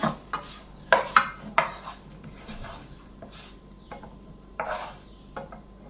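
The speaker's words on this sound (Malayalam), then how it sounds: "ഇതും നമുക്കൊന്ന് കോരി മാറ്റി വേറൊരു പ്ലേറ്റിലേക്ക് വെച്ച് കൊടുക്കാം." A spoon scoops roasted semiya vermicelli from a pan onto a plate, giving a few distinct metallic clinks and scrapes with soft rustling between them, close and fairly quiet.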